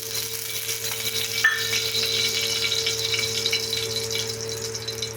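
Coconut and sesame seeds roasting in a little oil on a tawa over low heat, a soft, steady sizzle and crackle with a faint background hum, no talking.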